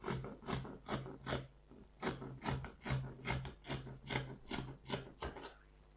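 Scissors cutting through trouser pocket fabric along the seam allowance, a close, steady run of about a dozen crisp snips at an even rhythm, quiet and heard alone.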